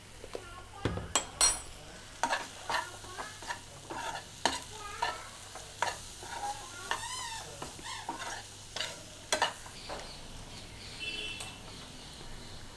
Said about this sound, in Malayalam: നന്നായിട്ട് വഴറ്റി കൊടുക്കുക.